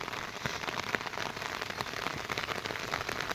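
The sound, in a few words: rain falling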